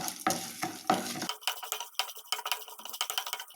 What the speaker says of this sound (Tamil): வரமிளகாய் 2 சேர்த்து பொன்னிறமாக வறுத்துக்கலாம்